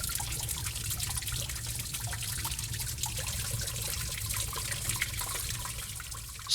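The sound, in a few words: water dripping inside Gua Putri cave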